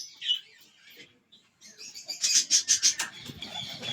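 Pigeons land and take off again, with soft rustles giving way to a burst of rapid wing flaps, close by.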